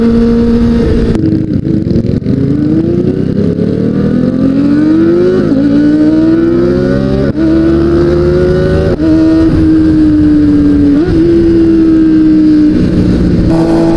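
A Kawasaki ZX25R sport motorcycle with a carbon-modified build revs hard through rising gear shifts, pitch climbing repeatedly then dropping, loud and close throughout with no talking.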